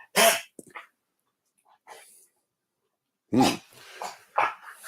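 A dog lets out short, loud, sneezy barks and coughs in two bursts with a quiet gap between them, close and sharp.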